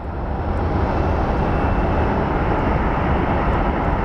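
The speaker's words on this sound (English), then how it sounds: "Ooh, we have a train too." A loud, steady broadband roar of a passing train fills the clip, constant and close, with no other sounds standing out.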